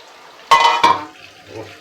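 A cooking-pot lid lifted off with two sharp metallic clanks close by, followed by quieter kitchen rustle and a faint simmer.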